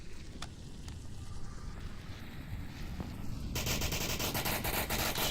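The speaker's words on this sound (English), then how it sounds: "Shots from Destructor, pre-firing into that wood, almost landing." Gunfire in the VR shooter Onward, rounds pre-fired into wood: dense rapid bursts over steady noise, thickening into a loud, sustained volley near the end.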